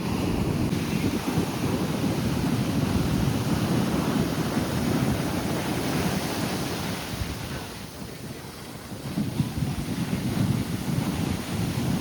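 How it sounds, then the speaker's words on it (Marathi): Sea surf at Poovar Island beach in Kerala rolls and breaks in a continuous roar, with heavy wind buffeting the microphone and no voices. "सो हा आहे समुद्र"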